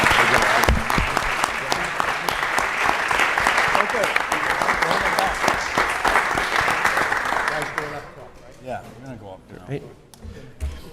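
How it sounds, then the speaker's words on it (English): Parents applauding student winners at a city council meeting, sustained clapping with some cheering for several seconds before it fades and voices take over. "And parents, how about one great round of applause for all these winners?"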